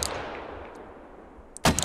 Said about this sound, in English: Everybody needs to shoot these mortars